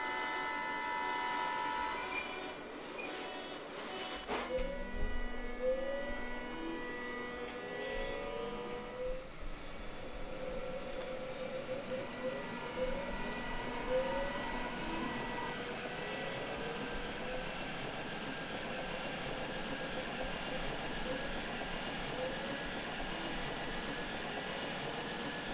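A U8 subway train in Microsoft Train Simulator pulls away with a low rumble and a rising, stepped whine of the motors that climbs in pitch, then settles into a steady rolling drone.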